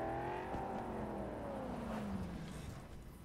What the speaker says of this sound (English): I like the sound of the cars, man. This sounds pretty sick